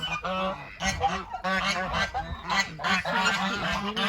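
Several geese honking loudly and close by, a dense overlapping chorus of nasal calls that continues throughout without pause.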